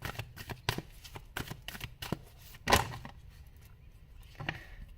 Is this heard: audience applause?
no